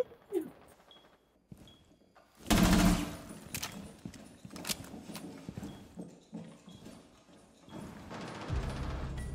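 Bursts of gunfire in the video game Rainbow Six Siege crack out, one long loud volley in the middle and scattered shots around it, with hooves clopping in the background.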